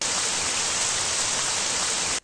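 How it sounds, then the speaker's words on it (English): Steady, dense rain hiss from a looping background sound effect in RPG Maker MZ, even and unbroken until it cuts off abruptly at the end. "So if it was raining, you could have a rain sound effect."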